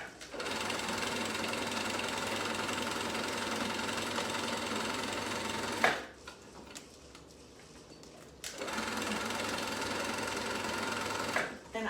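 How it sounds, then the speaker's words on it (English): A sewing machine stitches a fabric headwrap in two steady, even runs of fast mechanical needle clatter, with a short quiet pause between them. "we want to continue to sew this until it stays sewed."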